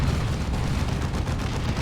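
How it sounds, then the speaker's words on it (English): Heavy, continuous booming cannon fire from the Demolisher cannon of a Baneblade tank in Dawn of War 2 rumbles loud and dense for the whole short span, with no voices. "Demolisher Cannon knocks them over."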